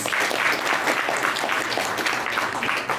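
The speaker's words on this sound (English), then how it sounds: "So big round of applause for him, ladies and gentlemen." Steady applause from a seated audience at a press meet for a Matrix Fight Night MMA event, a dense even wash of clapping that stays loud for the whole stretch.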